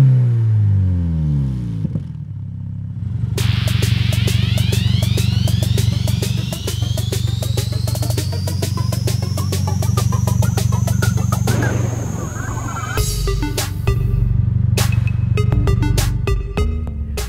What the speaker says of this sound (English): It's the GR Performance Dual Exhaust.